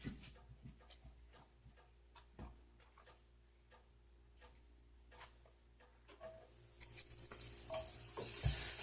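Butter and pancake batter cook in a pan with a faint, quiet sizzle and scattered small ticks and scrapes, growing louder and hissier toward the end.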